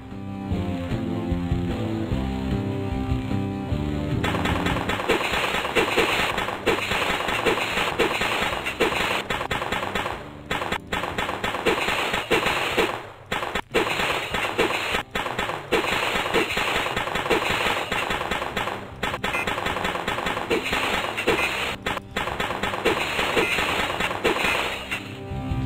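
Gunfire in the video game Ed, Edd n Eddy, rapid repeated shots with brief pauses running continuously over a loud, busy music bed throughout.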